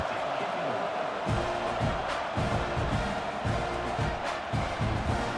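Stadium crowd noise from a college football game in EA Sports College Football 26, a steady broad murmur with low rumbling swells and faint cheers throughout, heard alone with no commentary.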